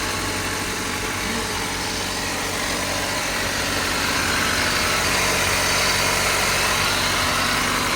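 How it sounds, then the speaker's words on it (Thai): A car engine idles with a steady, even hum and hiss, heard close and alone. The car has a worn brake booster that is drawing weak vacuum. "อันนี้เครื่องติดแล้วนะ"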